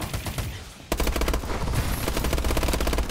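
Rapid automatic gunfire in the video game Call of Duty Advanced Warfare, steady bursts of close, loud shots that break briefly and then resume as a dense rattling stream, with no speech.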